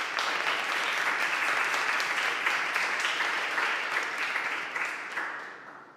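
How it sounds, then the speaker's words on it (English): Audience applause at a convention, dense and sustained clapping from a large crowd that holds steady for several seconds, then gradually thins and fades out. "Can we have a round of applause for that?"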